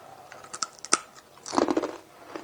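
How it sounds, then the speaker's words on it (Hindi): Crisp fried namak paray are bitten and chewed close up, giving a few sharp crunches and then a quick burst of crackly chewing, with no speech. "इन्ने मज़ेदार क्रिस्पी क्रिच क्रिच तो सुनी होगी ना तुसीं खांदे हुए"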